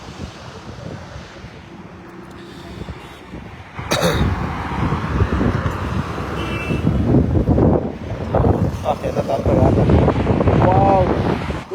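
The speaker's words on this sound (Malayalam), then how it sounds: "ഒരു താണത്ത കാറ്റ് കേട്ടോ, താണത്ത കാറ്റ്" Cold wind buffets the microphone during a Robin bus trip through scenic countryside. It starts as a steady rush, then after a few seconds turns into louder, continuous roaring gusts with faint voices underneath.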